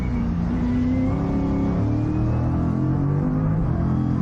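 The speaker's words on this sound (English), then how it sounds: "You can just hear the motor backed off, can't you?" An Innovation Race Car on the Mallala Motorsport Park circuit, its engine steady and droning close by as the driver backs off the throttle, a continuous mechanical hum with no voices.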